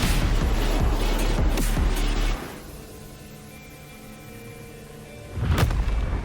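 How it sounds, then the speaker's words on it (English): Loud booming blasts in the video game Wuthering Waves, a sustained rumbling explosion that drops to a quieter hum midway before a second heavy boom bursts in near the end. "What caused the explosion?"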